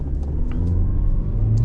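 A 2024 Hyundai Elantra SEL sedan accelerating, heard from inside as a steady low engine and road rumble that holds even and strong throughout, with no talking.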